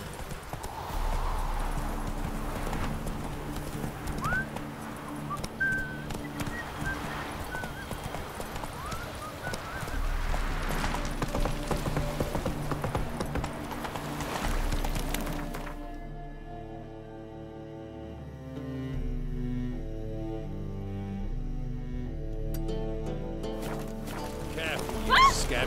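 Galloping horse in The Witcher 3, a steady clip-clop of hooves with a whinny, running under game music and occasional speech.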